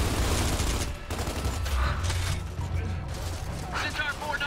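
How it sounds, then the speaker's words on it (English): Gears of War 2 gunfire crackles in rapid, dense volleys from a heavy firefight, loud and continuous under overlapping voices talking over the battle. "We're still under heavy fire from our left flank."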